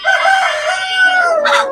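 A rooster crows loud and close at a chicken shop in a market, one full sustained cock-a-doodle-doo ending with a brief cluck, with no talk over it.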